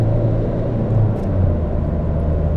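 Ford Focus MK TDCi diesel car accelerating hard, a steady, loud, close engine drone and low rumble that holds evenly throughout.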